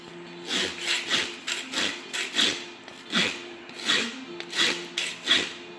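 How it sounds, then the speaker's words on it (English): Coarse 80-grit sandpaper rasps back and forth against a leather pool cue tip by hand, with a steady rhythm of about a dozen scratchy strokes, each close and clear, with no talking. "So this has got coarse sandpaper in it, something like 80 grit."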